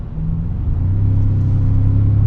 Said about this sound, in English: let's see how this truck handles and drives in a spirited environment